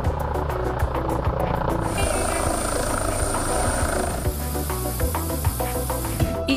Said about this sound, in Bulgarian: Хеликоптер на Смурт има във всеки областен град